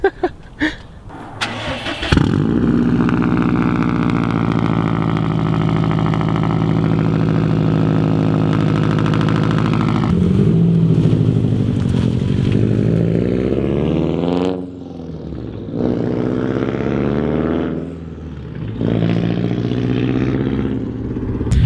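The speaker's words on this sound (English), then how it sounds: "Definitely gonna miss having that much turbo spool though." Subaru STI engine fitted with a new exhaust and no muffler, starting with a sharp crack and then holding a loud, raspy drone close by, revving and dropping off several times with turbo spool in the rises.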